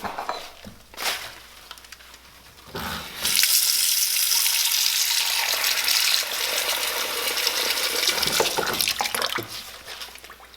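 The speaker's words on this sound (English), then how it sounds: "I'm just using this bowl to hold them underwater so they keep getting soft" Tap water runs into a kitchen sink where corn husks for tamales soak in a bowl, a steady loud rush for most of the stretch after a few short splashes and clunks, with no talking.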